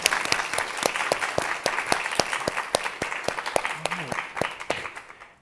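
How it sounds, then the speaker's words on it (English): Audience claps for a speaker at a summit event, a thin scattering of distinct, moderately close hand claps in an uneven rhythm that thins out toward the end. "Just a round of applause for Marielle."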